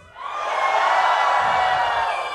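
A live audience at a public speaking workshop cheers and shouts together, a sustained, loud wash of voices that swells after a brief quiet start and holds steady to the end.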